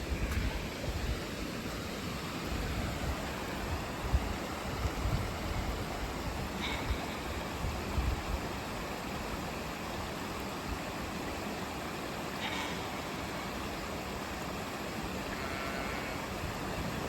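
Floodwater from rain and snowmelt pours off a dry lot through a small seasonal creek, a dense continuous rushing roar close to the microphone, steady throughout with no talking.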